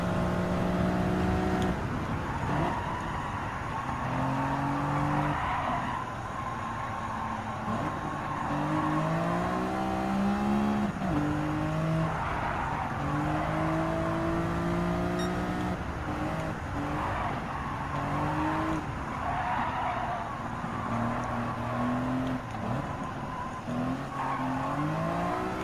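A Greddy Fugu Z race car in Gran Turismo 7 at Willow Springs Raceway: a loud, steady engine that climbs and drops through the gears, with tire squeal and skidding running underneath for the whole stretch.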